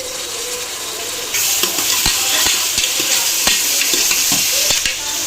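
Onions and tomatoes fry in a pan for white kurma, giving a steady sizzle with repeated spoon scrapes and taps against the metal, and the sizzle grows louder partway through.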